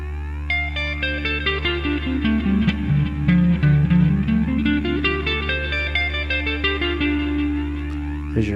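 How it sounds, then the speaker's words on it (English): Electric guitar with effects picks out a minor pentatonic scale, a run of single notes over a sustained low drone, steady and fairly loud throughout. "There's your 5-note minor sounding pentatonic."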